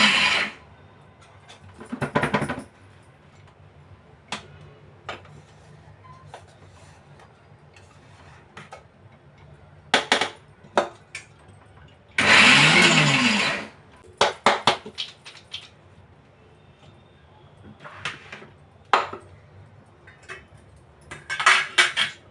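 An electric mixer grinder whirs in one short, loud burst of about a second as it coarsely grinds peanut chutney, set among quiet kitchen clicks and clatter.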